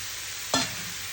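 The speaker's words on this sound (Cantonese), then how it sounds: "係咁易兜一兜" Rice being stirred through chorizo in a wok for paella gives a single short scraping swish over a steady low sizzle, close and alone.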